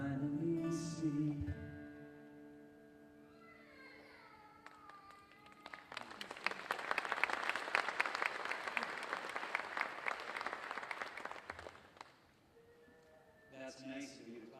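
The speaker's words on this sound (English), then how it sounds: "That's nice of you to clap." An audience claps for several seconds in a dense, lively burst after sung or spoken phrases, rising then fading, with voices heard before and after the applause.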